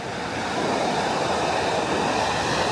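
Strong surf breaking on an Australian Gold Coast beach, a loud continuous roar of waves washing in with no break.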